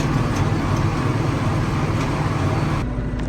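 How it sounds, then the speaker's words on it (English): Tractor driving to a grass-cutting job, a loud, steady engine drone with a rumbling low hum from inside the cab, continuous and even throughout before a slight drop near the end, with no voices. "I'm jumping in the tractor and I'm going to head over there and smash out the rest of the grass cutting"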